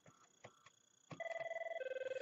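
An analog phone on an Avaya IP Office system rings after an extension is dialed: a few faint clicks give way to a steady, close electronic ring tone with rapid pulsing warble that shifts pitch partway through.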